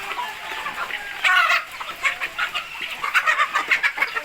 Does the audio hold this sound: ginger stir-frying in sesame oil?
no